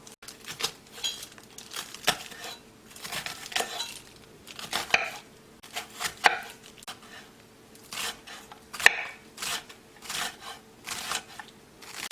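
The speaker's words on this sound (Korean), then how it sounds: "당근은 약간만 채 썰어 주겠어요" A knife chops vegetables, including thin strips of carrot, on a cutting board in a home kitchen, with quick irregular bursts of light taps and clicks running throughout at moderate volume.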